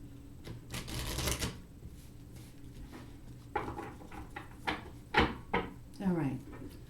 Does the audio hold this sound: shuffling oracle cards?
yes